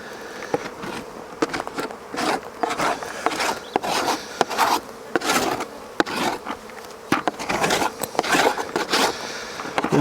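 Honey bees buzz around an opened hive in an apiary during a spring inspection, a steady insect drone with scattered sharp knocks and rustles of handled frames and equipment close by.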